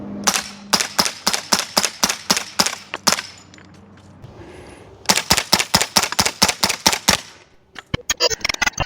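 An H&K UMP .45 ACP submachine gun fires in two rapid strings of roughly ten sharp, loud shots each, separated by a brief pause, with a quicker burst of reports at the end.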